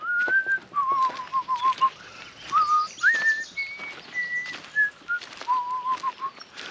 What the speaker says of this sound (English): What would I whistle?